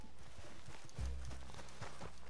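Horse hooves clip-clop at a steady trot in Red Dead Redemption 2, close and rhythmic, with a low rumble of game ambience beneath.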